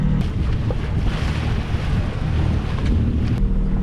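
Strong wind buffets the microphone at sea, with waves sloshing and a boat creaking in a loud, gusty roar.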